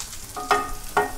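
Onion, curry leaves and dried chillies fry in hot oil for an amaranth greens dish, a soft steady sizzle lifted by two quick bursts of stirring within about a second.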